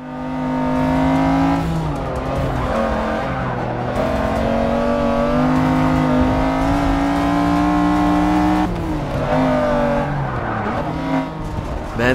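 Mercedes race car in Forza Motorsport 6 on an Australian hill circuit, its engine droning loud and steady throughout with rising and falling pitch through the gears, brief tire squeal mixed in.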